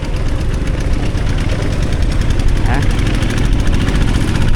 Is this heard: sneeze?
no